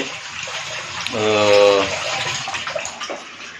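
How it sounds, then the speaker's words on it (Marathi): Water drains from a bathroom basin after pooling behind a glass left in it, a gurgling gush that swells for under a second and then fades into the low hiss of the room. "आमच्या बेसिन मधलं पाणी बघा ते आता गलास ठेवलं त्यामुळे पाणी जमाजलं आता ही जाते पाणी बघा"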